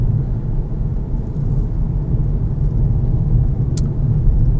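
A Volkswagen Golf 7 with a 2-litre diesel engine on the move, its steady low engine and road rumble holding constant and close throughout, with no voices over it.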